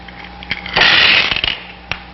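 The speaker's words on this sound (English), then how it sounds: "a chain reaction results in the explosion of the bomb." A nuclear bomb explosion is heard as a sudden roaring blast that swells and rumbles for about half a second, with scattered crackles and pops before and after.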